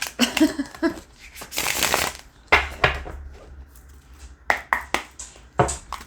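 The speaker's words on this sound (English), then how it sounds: "That did not want to shuffle very well." A deck of tarot cards being shuffled by hand, bursts of riffling flutter and sharp card slaps, a longer rustle early on followed by several quick taps and snaps, close and loud with no talk.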